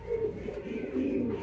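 Damascene pigeons in a loft give soft, low cooing calls that carry on continuously and close by, with no voices over them.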